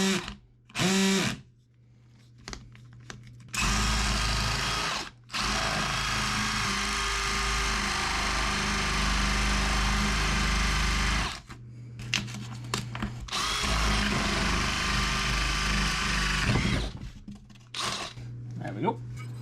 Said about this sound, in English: So I'm actually going to drill 17 inches deep.